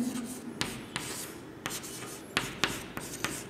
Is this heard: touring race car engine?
no